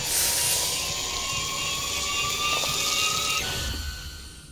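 A high-pitched whining drill bores into a brain in the video game Stories Untold. The drilling is loud and continuous, its pitch rises slowly, and it fades near the end, with no talking.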